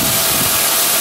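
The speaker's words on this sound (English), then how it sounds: "That's steam." Steam vents from a live steam locomotive, a loud, continuous broadband hiss that fills the whole moment without any break and drowns everything else out.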